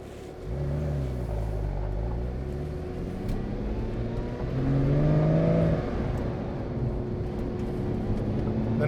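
A Porsche 911 997.1 Carrera 2 flat-six drives off from warm, droning low and steady up close, then swells as it revs up in the middle before settling back to a cruising hum.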